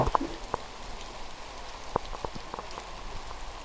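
Rain patters down outdoors, faint steady hiss with scattered distinct drops ticking on a surface, quiet and without voices.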